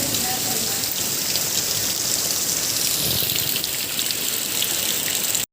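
Steady, heavy rain pours down nonstop, a dense hiss of drops drumming on surfaces close by, with no voices over it.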